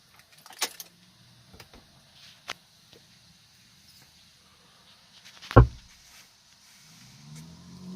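Car keys jangle in a short metallic burst as the ignition is turned on, followed by a few faint clicks and rattles in a quiet car interior.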